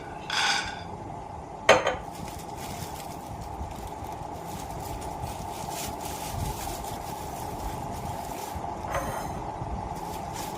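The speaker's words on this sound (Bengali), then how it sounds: "তার জন্য কাঠখোলায় বাদামগুলো ভেজে নিচ্ছি" Peanuts dry-roasting in a wooden-handled pan, stirred with a steady scraping rustle, a couple of sharp clinks of utensil against metal near the start and again late on.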